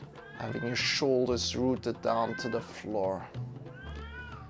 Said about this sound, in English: She's just meowing for food and attention.